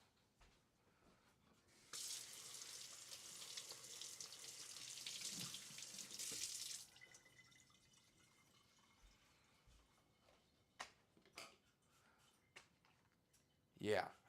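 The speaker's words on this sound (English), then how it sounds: "actually, I'm going to rinse it off." A kitchen tap runs steadily for about five seconds while food is rinsed under it, followed by clinks and soft handling noises, with talk nearby.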